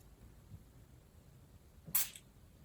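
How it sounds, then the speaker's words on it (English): A single short, breathy spray hiss from a perfume atomizer onto a paper card, crisp and close, in an otherwise quiet room. "I will spray some on the card."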